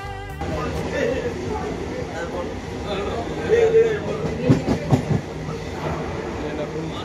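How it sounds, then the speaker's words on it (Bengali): A fast-moving passenger train on the line toward Baruipur near Kolkata, its steady rolling rumble and clickety-clack of wheels filling the whole stretch, swelling a little near the end, with a voice speaking over it. "ট্রেনটা খুব জোরেই চলছে।"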